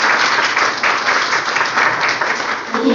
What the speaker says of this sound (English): Please give a round of applause for Roaring Spirit.